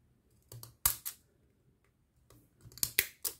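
Small scissors snipping paper for scrapbooking, a few quiet, crisp clicks spaced apart and then a short quicker cluster of cuts, close and alone in a quiet room.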